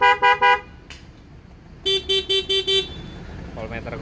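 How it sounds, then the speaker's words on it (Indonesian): A Denso dual-tone horn fitted to a 2014 Honda PCX scooter sounds in two bursts: three short honks, a pause, then five quick honks, loud and close, with a brief voice in between. "Lalu klakson Denso dual tone."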